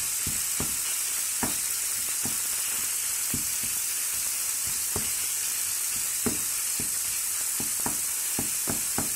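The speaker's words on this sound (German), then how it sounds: "dann schön alles erstmal klein machen und anbraten" Chopped meat for lasagne bolognese sizzles steadily in a hot pan, with scattered crackles and pops over a constant hissing fry, close up and fairly loud.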